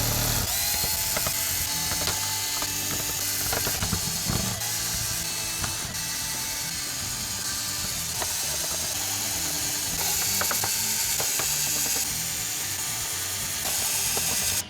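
Tools work at the inside of a Nerf blaster regulator, making repeated ratcheting clicks and small mechanical rattles up close, loud and continuous with no talking.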